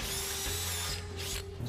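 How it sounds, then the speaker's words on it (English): A power drill bores mounting holes for the frame of a weighing scale installed on a conveyor, whining steadily and close for over a second before winding down and stopping. "So we've got our holes drilled for the frame now."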